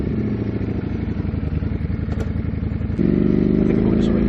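A Ducati Streetfighter motorcycle engine thrums close and loud with a rapid, lumpy pulsing beat, stepping up to a louder, harder note as it revs partway through.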